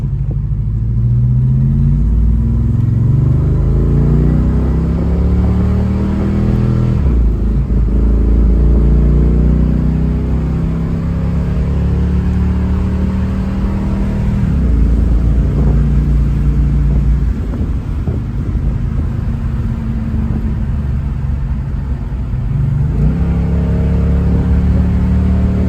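A 1969 Chevrolet Chevelle SS V8 engine revs and accelerates hard through several gear changes, a loud, deep rumbling roar that climbs in pitch, drops at each shift and climbs again, with no talking.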